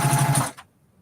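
A sewing machine stitches a quilt sleeve in a quick, steady run of needle strokes that stops abruptly, followed by near silence.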